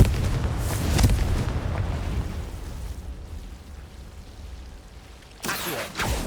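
A Confringo spell blast in Hogwarts Legacy, heard as a deep, rumbling explosion that swells and slowly decays, followed later by a sharper burst near the end.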